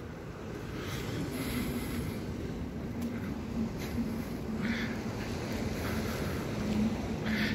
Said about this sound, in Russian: Море сегодня, наверное, волнуется офигенно, потому что ветер.